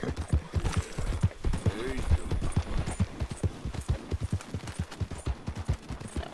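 Rapid clip-clopping hoofbeats of a horse in Red Dead Redemption 2, in a quick uneven rhythm with a brief whinny, fairly close, over a faint background.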